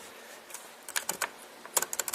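Fingers type on a computer keyboard, entering a command on a PC: a quiet, close run of irregular key clicks in short bursts, with a final firmer tap like pressing enter.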